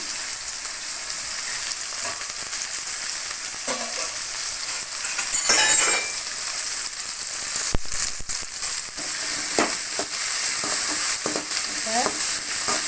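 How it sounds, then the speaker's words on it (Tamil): Mutton gravy is stirred in a hot pan: a continuous sizzle with scraping strokes and a few sharp clinks of the spoon against the metal. "இதை நல்லா கிளறி விடலாம்"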